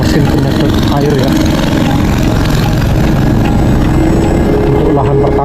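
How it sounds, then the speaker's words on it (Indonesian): Engine-driven water pump drawing well water to irrigate farmland, a loud, steady mechanical drone running unbroken throughout with a voice faintly under it. "Ini ada mesin penyedot air ya,"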